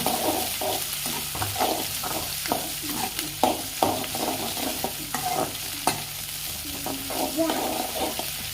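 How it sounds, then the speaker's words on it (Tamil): Onions frying in a pan for mint chutney are stirred steadily, a constant sizzle under repeated scraping strokes of a spoon against the pan, close and fairly loud throughout. "நல்லா வெங்காயம் வதங்குற வரைக்கும் நல்லா கிண்டி விடுங்க"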